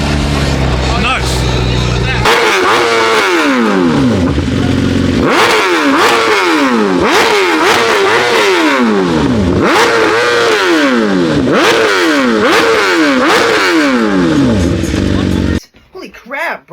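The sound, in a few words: loud car exhaust revving at a car meet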